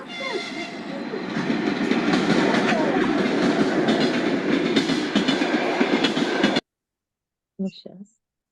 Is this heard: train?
yes